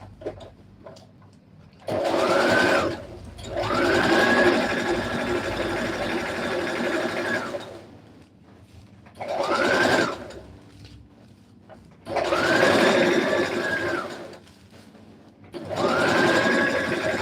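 A sewing machine stitching a dress runs in several bursts of steady whirring and rapid needle chatter, each lasting a few seconds with short quiet pauses between, close and moderately loud.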